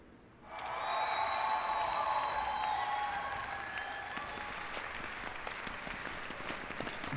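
Applause bursts from a crowd in Final Fantasy VII Rebirth, starting suddenly loud and dense, then slowly easing into sustained clapping, with faint musical tones underneath.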